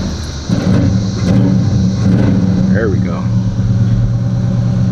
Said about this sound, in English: What I want to do first is give y'all a quick little cold start